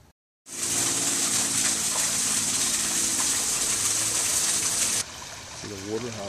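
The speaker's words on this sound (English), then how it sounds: "See the water, how it flows all the way through there" Water rushing down a channel on a pineapple farm, a loud steady broadband gush that starts abruptly and runs for several seconds before dropping in level, with a person starting to talk at the end.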